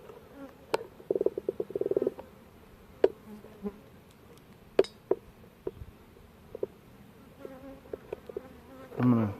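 Scattered buzzing of a honeybee swarm around a tree, with bursts of wingbeat drone and short pulses at moderate distance, alone with no talking.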